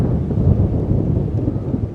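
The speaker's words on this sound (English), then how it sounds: "You hear that thunder, you see that flash." Thunder rolls through a storm in a video game, a continuous loud low rumble with a crackling rain-like hiss over it, steady for the whole stretch.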